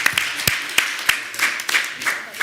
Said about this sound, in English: Let's give Timothy a big round of applause.